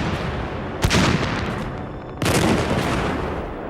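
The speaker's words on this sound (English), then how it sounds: "Trapped in the ruined airport, under artillery and machine gun fire." Artillery and machine gun fire at the ruined Carpiquet airport in Normandy, heard as a dense, continuous roar of distant gunfire with two sharp, louder blasts breaking through.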